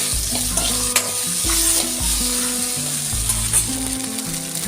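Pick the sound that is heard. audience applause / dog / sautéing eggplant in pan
sautéing eggplant in pan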